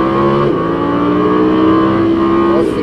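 An Audi R8 V10 on a race track accelerates hard out of a corner, its engine note climbing loudly and steadily, with a brief dip and shift partway through.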